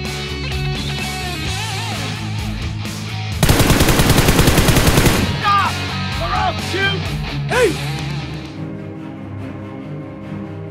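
Rapid burst of gunfire in a homemade Spider-Man fan movie, a dense rattling volley lasting about two seconds, loud and close, set among background music and shouting voices.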